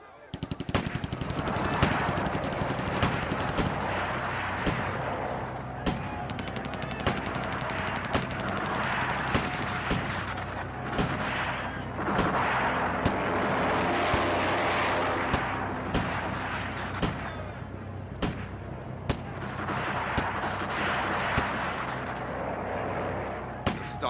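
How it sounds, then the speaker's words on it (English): Sustained gunfire and shooting in a dramatized battle scene, with dense overlapping shots, rapid bursts and heavy booms continuing throughout, mixed with shouting voices. "Don't shoot! Stop shooting!"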